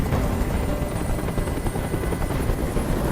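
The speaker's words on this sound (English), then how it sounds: "Tell that helicopter to get out of here!" A helicopter hovers overhead in the video game Connor Revolution War, its rotor a steady, loud, dense whir with a constant pulsing chop throughout and no talk over it.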